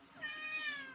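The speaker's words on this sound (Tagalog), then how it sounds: "Pusa." A house cat gives a single clear, drawn-out meow, close and alone for about a second.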